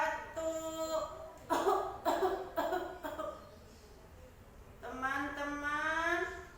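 Several quick, rough coughs come in a short cluster, set between brief voiced sounds, fairly quiet and close.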